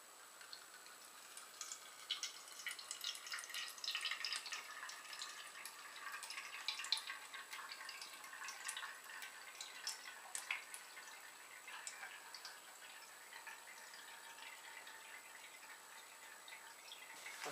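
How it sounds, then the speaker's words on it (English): Water trickling and dripping through a cheap ultralight water filter: faint, irregular ticks and small splashes scattered over a quiet background, busier in the first half and thinning toward the end. "I'll show you a little clip of pouring that in to show you how it goes."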